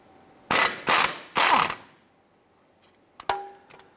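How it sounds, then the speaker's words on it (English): A ratchet with a T50 Torx bit loosens a nut on a 1999-2004 Jeep Grand Cherokee front upper control arm, giving three quick loud clicking bursts followed by a quieter pause and a couple of sharp metallic knocks. "We're going to go ahead, loosen and remove this nut."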